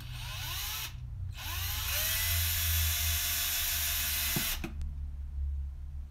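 A Craftsman drill bores vent holes through rubber RC car tires, its motor whining up in pitch in two close bursts, then a longer steady run that cuts off abruptly, with no talking.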